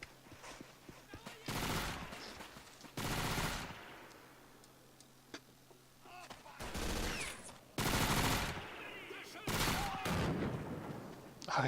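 Machine gun bursts in the Men of War Assault Squad 2 war game, loud clustered volleys separated by quieter gaps with other game noise, while a commentator talks.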